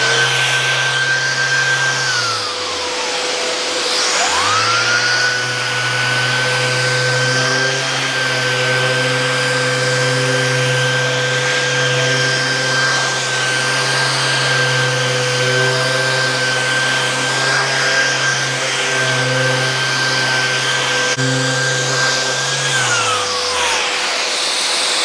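A power sander running on a waterfall table for wet sanding with 400 grit: a loud, steady motor whine spins up, holds an even pitch for about twenty seconds, then winds down.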